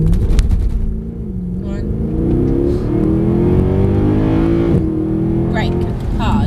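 A Mercedes-Benz car accelerates hard on a driving track, its engine drone rising steadily in pitch and staying loud throughout, with an instructor speaking briefly over it.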